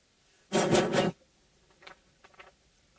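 A strip of sandpaper is rubbed in one loud, rasping stroke lasting about half a second, away from a Hondo 779 3/4 guitar, followed by a few fainter short scratches.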